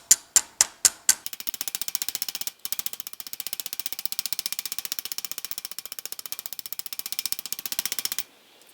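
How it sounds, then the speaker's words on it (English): A hammer taps on hood scoop sheet metal clamped in a vise for a custom GTO restomod: a few separate sharp strikes, then a fast, even train of light metallic taps lasting several seconds, close and alone. "over to the vise and do some hammering in this area, see if we can sweeten that up"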